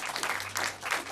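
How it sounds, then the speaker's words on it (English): Brief applause comes from a crowd at an annual meeting, soft and somewhat distant, swelling in short bursts over about a second. "give yourself a round of applause"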